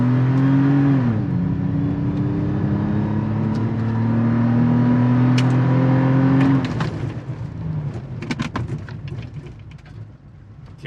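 A 2022 Toyota 4Runner TRD Pro accelerates flat out from 0 to 60 mph, heard from inside the cabin. The engine drone rises steadily through the gears with a shift near the start, then eases off into road rumble and a few small knocks.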